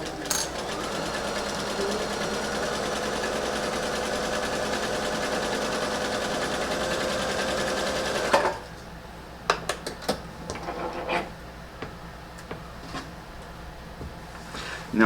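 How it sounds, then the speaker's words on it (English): A sewing machine runs steadily, stitching the short end of a fabric stocking cuff along a quarter-inch seam to form a loop. It stops near the middle, followed by sparse clicks and handling sounds. "I'm just going to sew the short end down this seam to create a little loop, a little circle of cuff."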